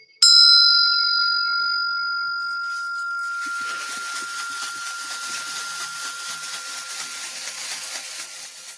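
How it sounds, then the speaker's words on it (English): A loud bell is struck once, ringing out with a bright, sustained tone that slowly decays while a steady hiss rises beneath it, with no talking. "Gonna make a loud bell sound."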